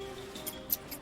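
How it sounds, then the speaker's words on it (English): Scissors snip three times in quick succession during a tabletop game session, each cut a short, faint, crisp click over a quiet background hum. "Scissors."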